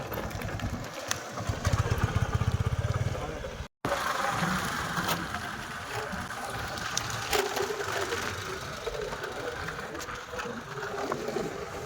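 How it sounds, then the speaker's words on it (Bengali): A motorcycle carrying three riders heads along a track through scrub and jungle toward a main road. Its engine drones loud and steady throughout with a rough mechanical chatter, cut by one brief dropout. "এখন আমরা তিনজনা বাইক করে যাচ্ছি। এই হচ্ছে বাইক"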